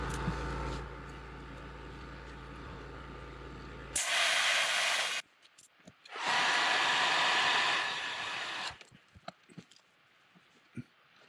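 A heat gun or hair dryer blows over airbrushed paint on fishing lures in two steady whooshing bursts of hissing air, the second longer, with quiet handling noises before and after.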